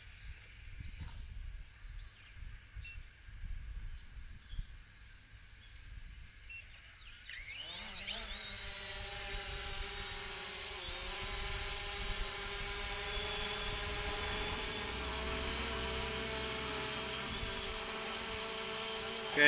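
A Hubsan Zino drone is hand-launched outdoors in wind: after quiet handling noises its rotors spin up abruptly into a loud, steady high-pitched buzzing whine that holds level while it hovers nearby.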